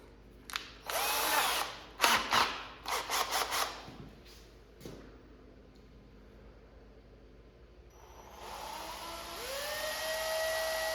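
Short bursts of an electric drill spinning a small bit wrapped in tape to make it grip in the chuck, during an arcade cabinet restoration; several whirring runs close by, then a quieter stretch and a steadier hiss.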